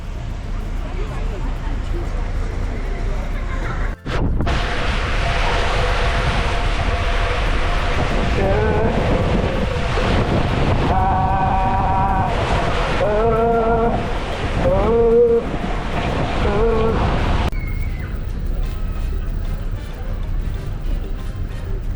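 Wind and rushing ocean water on an open deck of a Carnival Sunshine cruise ship at sea, a steady broadband roar with a person talking over it for much of the time.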